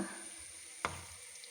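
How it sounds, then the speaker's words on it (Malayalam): Cauliflower pieces dropped with a ladle into hot oil for crispy gobi fries, a faint steady hiss broken by one sharp clink. "എണ്ണ ചൂടായി നമുക്കിനി കോളിഫ്ലവർ അങ്ങോട്ടിടാം"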